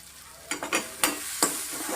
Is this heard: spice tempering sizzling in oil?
yes